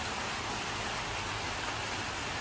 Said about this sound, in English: So finally it did start raining a bit.